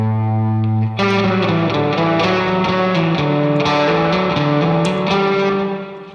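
Electric guitar played through the Neural DSP John Mayer X plugin with the Blues Breaker drive and heavily cranked spring reverb: a sustained chord followed by a melodic run of overdriven plucked notes, loud and close with no voices.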